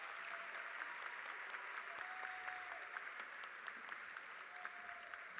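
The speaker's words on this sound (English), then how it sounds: "we could have a big round of applause for all of our students" Sustained applause from a crowd at a high school awards assembly, steady dense clapping with sharp individual claps standing out, continuing throughout at moderate distance.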